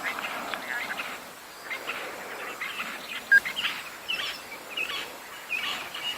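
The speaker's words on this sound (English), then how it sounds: "it definitely sounds like majority insects and just a few birds advertising" African bush at night at sunset: a dense, faint chorus of insects fills the background while a few birds call intermittently, with one brief sharper call standing out.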